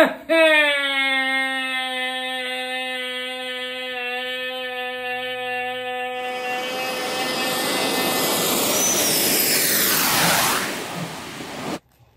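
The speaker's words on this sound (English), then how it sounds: "did a freaking airplane just fly from behind me" A jet airplane passing close behind, its engine roar building into a loud broadband rush over several seconds before cutting off abruptly, laid over a steady whining tone.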